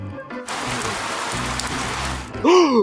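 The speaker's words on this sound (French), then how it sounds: "Mais c'est un parapluie à l'envers. Vous avez vu? Il fait pleuvoir." Rain falling from an upside-down umbrella in a Spider-Man video game, a steady loud patter of raindrops that starts abruptly and ends with a bright synthetic chime.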